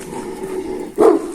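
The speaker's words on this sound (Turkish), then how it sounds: "Arkadaşlar orada bir tane köpek var." One short bark from a dog close by, following a low murmur of background noise.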